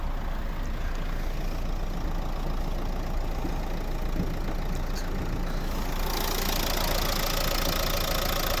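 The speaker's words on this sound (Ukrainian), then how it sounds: "Ось е, робота двигуна." A 2014 Renault Megane III facelift's 1.5 dCi K9K diesel engine with Continental injection idles steadily, a continuous near rumble with no voices.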